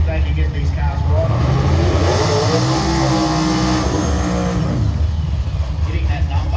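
An orange Holden FB drag race car accelerates hard on an eighth-mile radial strip, its engine note climbing loudly through a rising revving sweep, with an announcer talking over the roar.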